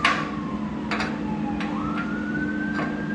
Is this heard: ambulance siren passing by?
yes